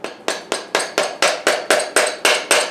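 A piston pin is driven into a piston of a Vanagon waterboxer engine during a rebuild: ten sharp, evenly spaced metallic hammer taps, close and loud, at a steady rhythm of about four per second.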